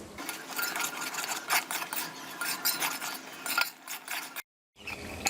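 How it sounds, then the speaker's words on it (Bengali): Mutton and yogurt are stirred and sautéed in a pot, a utensil scraping and clinking in quick, irregular strokes close by, broken by a short silence near the end. "এখন টক দইটা দিয়ে গোস্তটাকে আবারও কষিয়ে নেব।"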